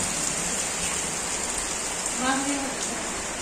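Steady rain falling on a rainy day in a village, a constant dense hiss with a brief voice rising partway through.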